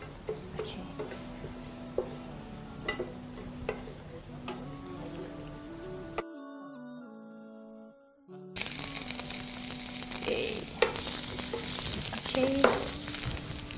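Garlic and ginger sizzle and fry steadily in oil in a pan, a continuous crackle with a brief drop-out partway, then the frying returns louder; a voice speaks briefly.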